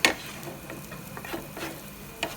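Sliced sausage sautéing in a pan, a soft sizzle under intermittent scraping stirs, with a sharper clack at the start and near the end.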